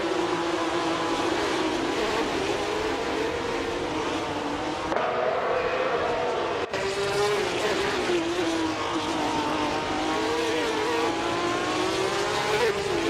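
Race cars in a racing video game charge down the opening straight, their engines a continuous layered whine that shifts slowly in pitch as they accelerate, loud and unbroken throughout.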